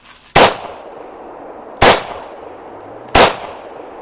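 Three sharp, loud, close gunshots from a Hi-Point JHP .45 pistol ring out about one and a half seconds apart, each with a short decaying ring, no voices.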